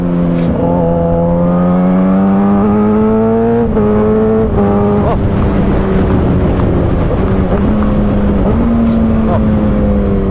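A Suzuki GSX-R750 motorcycle engine screams loudly and up close as it climbs through the gears, its pitch rising in repeated steady runs with brief drops at each shift.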